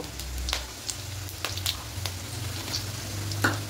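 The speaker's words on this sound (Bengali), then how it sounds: "এবার এখানে দেব গোটা জিরে আর গোটা গরম মশলা ফোড়নে দেব।" Whole cumin and whole garam masala sizzle in hot white oil, a close crackling fry with sharp pops and stirring clicks over a low sputter.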